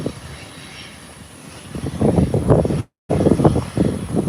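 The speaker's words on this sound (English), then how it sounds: "This look like a smooth landing coming in." An airliner landing at an airport approaches with a low engine rumble that builds and grows louder over a few seconds, with a brief dropout partway through; no one speaks.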